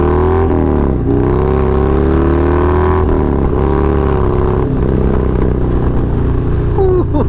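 A Harley-Davidson Low Rider S motorcycle with raised suspension accelerates hard, its loud engine note climbing steadily and close up over several seconds, with wind rush throughout.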